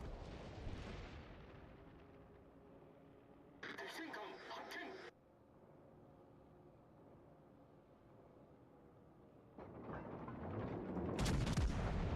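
A naval gun salvo in World of Warships Legends booms out as a sharp burst partway through, followed later by a rising rumble of further firing, with speech and game ambience underneath.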